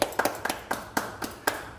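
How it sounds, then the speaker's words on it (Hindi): Several hands clap at a mobile phone repair bench after a CPU reballing job, about eight sharp, irregularly spaced claps close by and moderately loud, with no talking. "ताली बजा दो यार"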